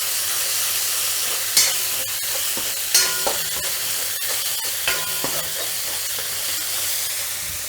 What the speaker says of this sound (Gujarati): હવે એમાં મરચાં એડ કરી દઈશું આદું એડ કરી દઈશ ને મિક્સ કરી લેવું